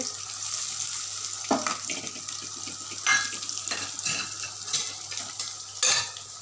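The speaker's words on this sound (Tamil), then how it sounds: "காளானை போட்டுட்டு தேவையான அளவு மஞ்சள்தூள், மிளகாத்தூள் எல்லாத்தையும் போட்டு வதக்கிட்டு" Mushrooms sauté with turmeric and chili powder for a mushroom gravy, with a spatula scraping the pan in repeated close strokes over a steady, hissing sizzle.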